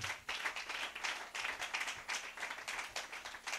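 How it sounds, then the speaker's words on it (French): A church congregation at a convention in Cotonou claps together, producing steady rhythmic applause in pulsing bursts that fill the room. "Donnez une main d'acclamation au Seigneur."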